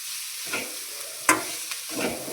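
A curry of bamboo shoots, paneer and potato sizzles in a very hot kadai while being stirred, with a few scraping strokes and one sharp clink from a spoon on the pan.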